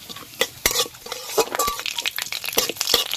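Fennel and nigella seeds crackle and spit in hot mustard oil in a kadai, with irregular sharp pops and a light sizzle close by, plus an occasional utensil clink.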